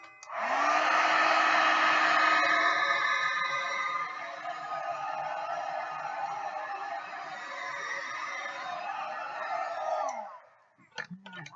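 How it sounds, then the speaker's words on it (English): A hair dryer dries a painted altered tag, blowing as a loud, close, continuous whir for about ten seconds before it cuts off abruptly, followed by a brief rustle. "And dry."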